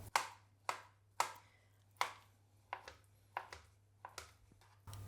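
A knife chops avocado flesh into chunks on a cutting board, about ten crisp, close knocks in an uneven rhythm over a faint steady hum, with no talk.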